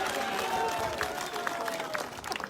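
A crowd at a political rally claps and cheers to welcome a young MP from Purulia, a dense, fairly distant wash of applause with a voice speaking over it.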